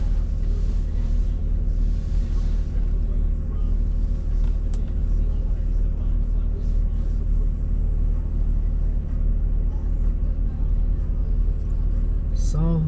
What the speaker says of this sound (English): So there always seems to be a little bit of traffic here.